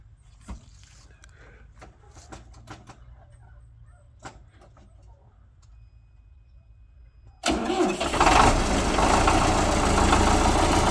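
An MTZ 82 tractor engine cranks and fires up, jumping from a quiet yard with scattered small clicks and knocks into a loud, steady diesel running roar close by.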